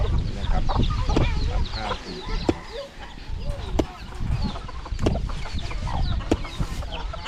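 Chickens cluck and chatter close by in a rural Lao mountain village, with scattered sharp knocks and busy outdoor background noise throughout.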